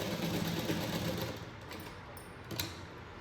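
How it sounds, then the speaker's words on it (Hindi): A sewing machine stitches a seam along a suit neckline backed with buckram, a quick rattling whir that runs for over a second, then slows and stops, with a faint click after. "यहाँ ये लाइन इसके ऊपर किनारे की सिलाई चलाएंगे इसके ऊपर।"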